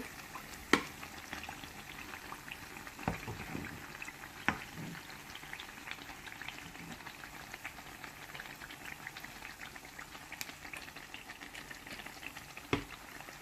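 Four poa pitha cakes fry together in oil, giving a soft, steady bubbling hiss broken by a few scattered pops and utensil taps.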